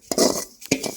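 Roasted rava is scraped from a pan onto a plate in a kitchen, with two short, close metallic scrapes and clinks of a spoon against cookware.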